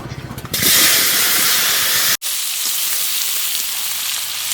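Potatoes drop into hot oil in a pan just used to fry an egg, setting off a loud, sudden hiss that settles into a strong, continuous close sizzle, broken once by a momentary gap.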